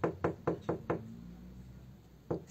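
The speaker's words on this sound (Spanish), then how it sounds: "me empezaron a tocar la puerta" Someone knocks on a bedroom door: five firm, evenly spaced raps, then a pause and one more knock, close and hollow-sounding with no voices.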